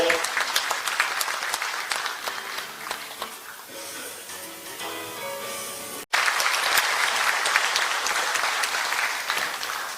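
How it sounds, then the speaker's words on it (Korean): Loud applause from a crowd fills a hall as the mayor of Taebaek is introduced, dipping briefly as a faint tune plays, then swelling again into sustained clapping. "큰 박수로 맞아주십시오"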